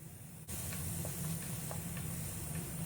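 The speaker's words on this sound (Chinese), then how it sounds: "炒过花椒粒的油锅里倒入肉丝，翻炒均匀" Shredded pork hits hot Sichuan-peppercorn oil in a wok and is stir-fried, giving a steady loud sizzle and hiss with faint scraping taps of stirring.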